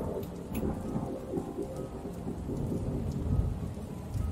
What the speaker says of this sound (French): La foudre et le tonnerre s'alternaient sans interruption et il pleuvait fort.